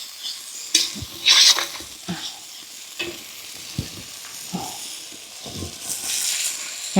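Shrimp frying in hot oil with spices, giving a steady sizzle broken by scraping stirs and clanks of a spatula against the pan, close up with no talking.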